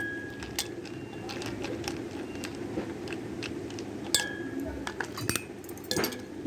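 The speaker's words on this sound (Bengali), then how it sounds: "আর একটু আইস কিউব দিয়ে দিলাম" Ice cubes clinking into a glass of spiced buttermilk made from sour yogurt, several sharp, bright clinks spread irregularly over a steady outdoor background with faint birdsong.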